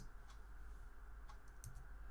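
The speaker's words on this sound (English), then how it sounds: "I'll hit 3 on the keyboard to see what I have." Computer keyboard keys are pressed in a few quick, soft taps, close by and alone against a low steady hum.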